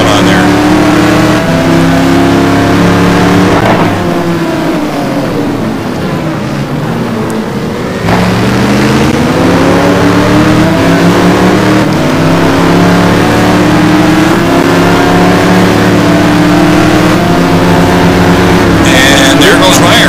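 Ford and Ferrari GT1 race cars run close together at Valencia, their engines roaring loud and near. The pitch climbs and falls through gear changes, with a brief dip in the middle before they rev back up to full power.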